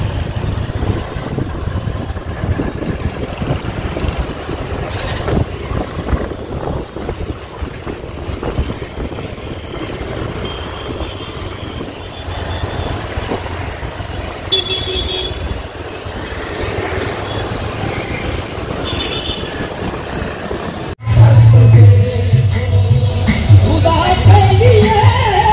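Busy street traffic at the Bada Bazaar in Yakutpura, with engines idling and revving close by in a continuous, loud, congested roar. It swells louder near the end.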